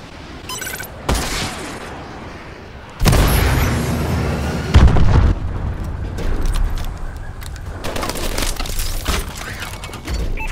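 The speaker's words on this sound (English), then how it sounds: "Friendly missile strikes inbound." Missile strikes explode in a video game: heavy booming blasts and crackling fusillade-like impacts start abruptly and keep rolling loudly, with a burst of debris-like rumble midway.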